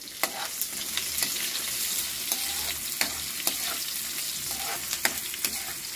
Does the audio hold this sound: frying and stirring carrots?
yes